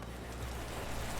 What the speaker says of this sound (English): the rain makes a lot of noise